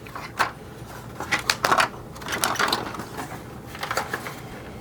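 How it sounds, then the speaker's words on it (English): Screws being removed from a 1986 GI Joe Cobra Night Raven plastic toy jet, with a run of close, irregular small clicks, creaks and plastic rattles at moderate loudness, with no talking. "Remove the screws."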